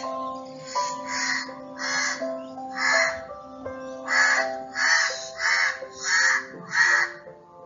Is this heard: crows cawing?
yes